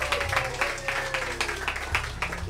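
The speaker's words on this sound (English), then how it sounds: "Let's give it applause. Give it a hand." An audience applauding at the start of a presentation, with scattered, moderately loud claps over a humming room and some background voices.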